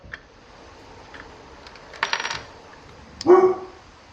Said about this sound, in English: Oh, guard dog.